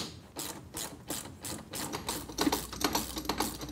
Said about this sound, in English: We're going to go ahead and use our Craftsman ratchet and a 3/4 inch socket.